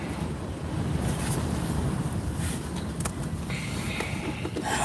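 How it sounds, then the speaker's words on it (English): Strong wind roars steadily across an outdoor campsite where tents are being set up, buffeting the microphone as a dense, continuous rumble with occasional gusty flutters and no talk. "Can't do nothing in the wind"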